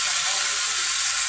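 Tomato sauce sizzling as it goes into a pan of frying boneless chicken with garlic, a steady close hiss of hot oil filling the whole short moment with no voice over it.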